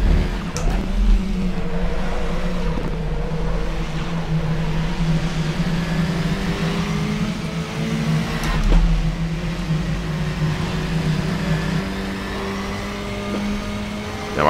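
A KTM X-Bow race car engine in a racing video game drones loud and steady, its pitch rising and falling through gear changes with a couple of sharp shifts, with no talking.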